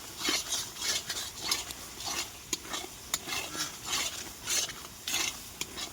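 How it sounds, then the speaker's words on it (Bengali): Desi mutton kosha with potatoes cooks in a pot over a wood fire. A spoon scrapes and stirs in quick, rhythmic strokes over a soft sizzle, close up, and no one speaks. "কাঠের জালে দেশি মাটন কষা"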